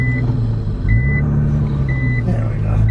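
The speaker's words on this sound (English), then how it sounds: "Is there a way to disable that beeping?" A Nissan GTR's reversing alert beeps three times at an even pace over the low idle rumble of the engine, close and clear.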